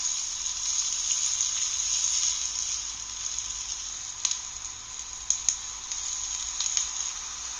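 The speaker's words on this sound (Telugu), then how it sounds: "కొద్దిగా ఆవాలు, మనం ముందుగా తరిగి పెట్టుకున్న మిర్చి అండ్ ఆనియన్ ఈ రెండు బాగా వేగిన తర్వాత" Mustard seeds, chopped green chillies and onion sizzle in hot oil in a pan, a steady bright frying hiss with a few small pops and crackles, close and continuous with no talking.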